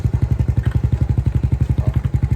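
A motorcycle engine in a GTA video game revs with a steady rapid thumping pulse, loud and close, running continuously with no talk over it.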